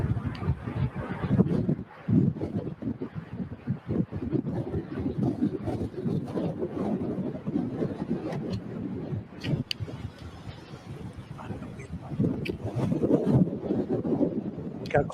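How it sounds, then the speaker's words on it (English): Strong, steady wind roars and buffets close to the microphone near an EF4 tornado in Missouri, a continuous rumbling gust noise with no pauses and no voices. "It's gonna get really windy though."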